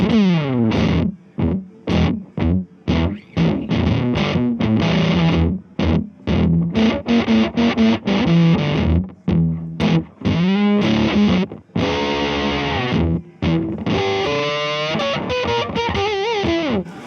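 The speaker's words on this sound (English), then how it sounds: "I like this kind of farty fuzz kind of sound." An electric guitar plays through an MXR Billy Gibbons Siete Santos fuzz pedal at NAMM 2019, giving a loud, buzzy, farty fuzz in choppy strummed bursts and held notes, with short silent gaps between phrases.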